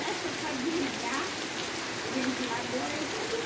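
Gentle rain falls after a long dry spell, a soft, even patter heard steadily throughout while people talk over it.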